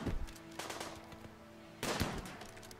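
Gunfire in Rimworld during an invasion, heard as two sharp shot bursts separated by a quieter stretch of ringing tail.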